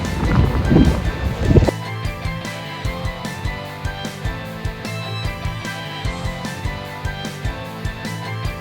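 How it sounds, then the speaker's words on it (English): Steady engine drone with rhythmic thumping and wash of wind and water noise, preceded by a brief rumbling splash, like riding aboard a motorboat. "Let me take a boat ride."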